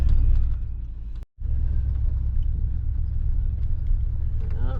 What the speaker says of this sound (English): So, doing a little test drive after we got the shocks and new springs put on.